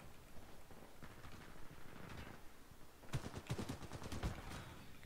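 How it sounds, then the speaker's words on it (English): Gunfire in the video game Titanfall 2, faint scattered shots at first, then a rapid close burst of repeated automatic fire. "Way too many shots"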